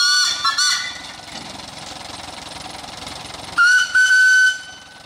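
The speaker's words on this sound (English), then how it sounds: "Give us a pull on the whistle there." A steam engine's whistle sounds at a steam show, a loud tonal blast at the start, then a softer steady mechanical hum, and then a second sustained, shriller blast that cuts off near the end.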